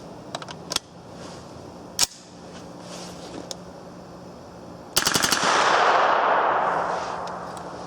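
Rapid bursts of gunfire from a 9mm AR-15 rifle fed from a Colt-type magazine, with sharp cracks near the start and around two seconds, then a dense, loud volley of shots with a lingering outdoor wash.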